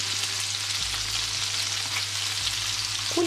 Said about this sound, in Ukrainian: Я смажу на вершковому маслі